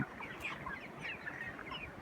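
Broiler chickens on a poultry farm give soft overlapping clucks and chirps, a faint, busy flock murmur that continues without pause and without speech.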